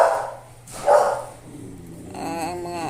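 Dogs bark nearby: two sharp barks a short moment apart, then a drawn-out whining yelp, all fairly loud over a faint background hum.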